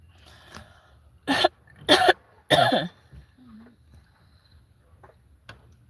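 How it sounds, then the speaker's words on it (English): Three harsh coughs in quick succession, fairly close, followed by a faint throat noise and quiet background. "I'm sorry, coughing."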